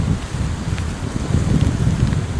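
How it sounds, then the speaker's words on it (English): Gusting wind buffets the microphone while heavy rain pours down at the Fairy Pools on the Isle of Skye, a loud, continuous low roar with steady rain hiss, close and unbroken. "the wind goes crazy and the rain gets harder and harder."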